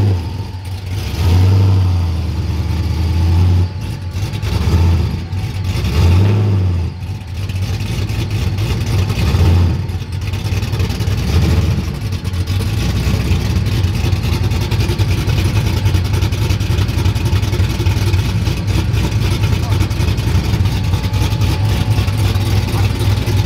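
A swapped-engine car, likened to a 1979 Camaro race car, idles with a loud, steady low rumble that swells into several throttle revs and settles back into a constant drone, with no talk heard.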